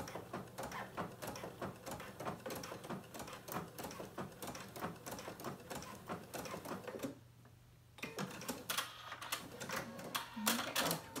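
A domestic sewing machine stitches fabric in quick, rhythmic mechanical bursts, pauses briefly midway, then resumes with a few louder clacks. The sound is close and moderately quiet, with no talking.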